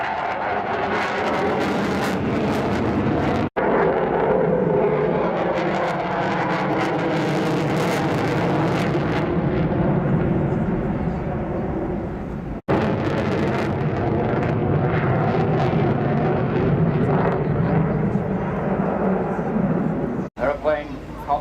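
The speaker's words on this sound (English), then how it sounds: "Aeroplane cocked up into the air, hardly moving forward at all." An aerobatic plane at the Blackpool airshow in 2017 drones overhead with a loud, continuous engine roar and wind rumble that swells and fades, while someone talks over it for most of the time.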